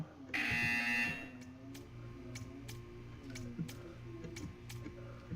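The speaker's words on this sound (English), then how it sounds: "You will hear a buzzer." In the video game Portal 2, a loud electronic buzzer blares for about a second, then regular soft ticks follow at an even pace over a faint low hum.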